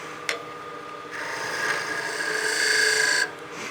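A lathe gouge cuts the edge of a small wooden mushroom Christmas ornament with a steady rising scraping whir for about two seconds, after a single faint tap, over the lathe's low hum.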